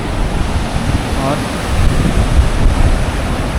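Heavy rain and rushing water on a cloudy mountain trail near Harishchandragad make a dense, loud hiss, with wind buffeting the microphone and a brief voice under the noise.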